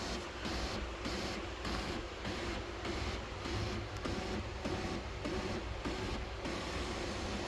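After repair, a Canon LBP122dw laser printer runs with a faint, even mechanical hum and soft, regular rhythmic pulsing, heard alone at low volume.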